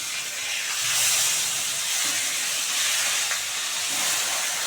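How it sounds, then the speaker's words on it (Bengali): Fish frying to a deep red in a hot pan, a steady loud sizzle and hiss of oil that runs unbroken throughout, with no talk. "এই দুটো ভালো করে একদম লাল করে ভেজে নেব।"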